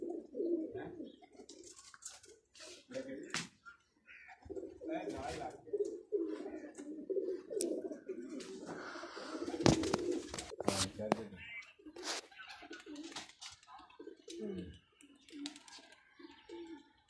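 Pigeons coo in low, repeated throaty calls alongside scattered chirps and clicks, with people talking over much of it.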